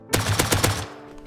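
Rapid automatic gunfire with explosive ammo in the survival game Rust, a loud burst of about five heavy shots in quick rhythm that cuts off and leaves a short ringing tail.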